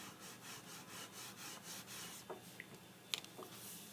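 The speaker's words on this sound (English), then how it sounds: "I'm going to take that scraper blade and we're going to level it." A scraper blade rasps back and forth over a wood fill stick repair, leveling the filled defect in a series of soft, close scraping strokes.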